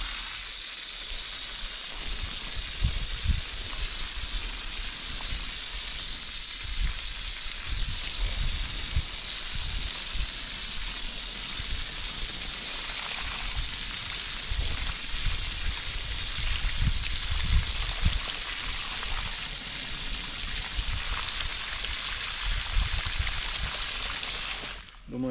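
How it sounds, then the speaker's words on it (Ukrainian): Water poured into a container to test a drip irrigation system fed from a borehole, a steady splashing, sizzle-like rush that runs almost unbroken for about 25 seconds at close range, with no talk over it. "налиємо туди води"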